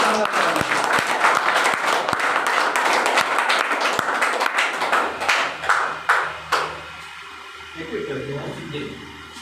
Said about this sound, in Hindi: तो कंतलाल जी के लिए जोरदार तालियां।